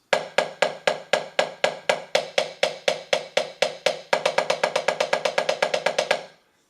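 Drumsticks play single strokes on a practice surface, first as a steady run of evenly spaced eighth notes and then doubling to faster sixteenths, crisp and close, before stopping abruptly.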